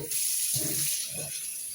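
Water runs from a tap into a container in a short, steady, fairly quiet gush with a light hiss, and no voices are heard.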